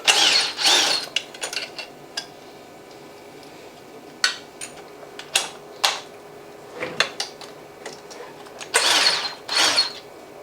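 Metallic clinks, scrapes and tool clatter as a Kugoo Pro 2 electric scooter's brake mechanism is removed, in irregular bursts with quiet pauses, like parts being unscrewed and handled up close.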